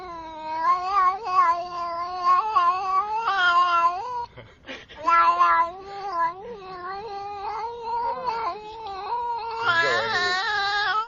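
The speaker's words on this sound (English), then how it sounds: "We're going to leave you with two words, one nightmare, Demon Cat." A cat's drawn-out caterwauling and yowling meows, rising and wavering in long harmonic-rich wails with a brief gap midway, loud and close throughout with no talking.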